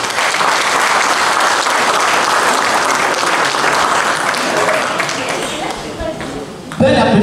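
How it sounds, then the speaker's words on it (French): A room of guests at a benefit evening applauds in a full, sustained round that gradually fades, then a voice speaks over the dying claps at the end. "Un applaudissement s'il vous plaît."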